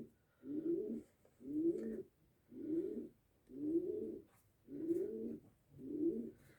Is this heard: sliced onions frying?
no